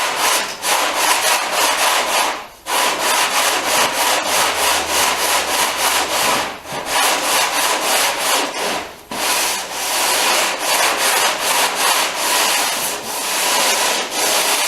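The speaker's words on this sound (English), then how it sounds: "I'm going to block that out with some 80 grit, because I don't want to take too much off." Hand block sanding of a vintage car fender with 80 grit sandpaper, loud close rhythmic rasping strokes in a fast steady back-and-forth, broken by a few short pauses.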